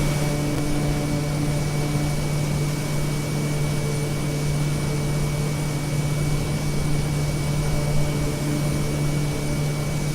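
A steady, unbroken aircraft engine drone with a constant hum, heard from inside a Cessna C172 cockpit in Microsoft Flight Simulator during a flight in Japan, with no talk.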